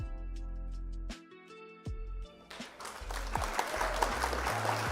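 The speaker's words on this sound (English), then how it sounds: "Round of applause for opponent." Applause breaks out partway through, a steady wash of clapping that builds and continues, preceded by low tones and electronic sound effects.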